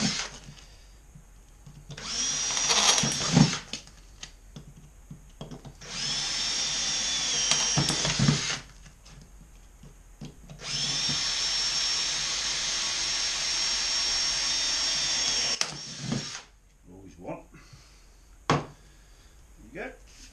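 A power drill bores out the rivets on a motorcycle exhaust end piece, running in several loud sustained bursts separated by brief pauses, with a voice speaking between bursts.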